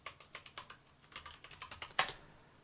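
Keys clatter on a computer keyboard in quick, uneven bursts of light taps, with one harder keystroke near the end. The typing is faint and close, and no one speaks.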